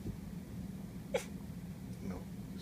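A female dog sneezes once on command, a single short sharp burst at moderate distance against low room hum, with a fainter snort-like breath about a second later.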